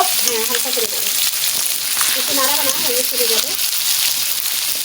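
Rohu fish frying in hot oil with spicy masala, giving a steady, loud, close sizzle throughout, with a person talking over it for much of the time.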